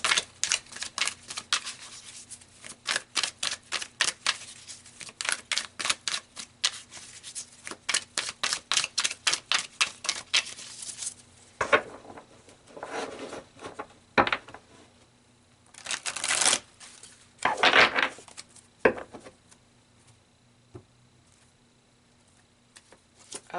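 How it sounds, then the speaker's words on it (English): Tarot cards being shuffled in the hands in a long run of quick, papery riffling flutters, then slower slaps and rustles as cards are pulled and laid down, close and moderately loud with no talking. "So let's pull some more cards."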